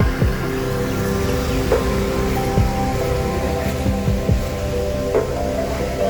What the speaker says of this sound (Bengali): এই জলটা সাউন্ড পাচ্ছি আমরা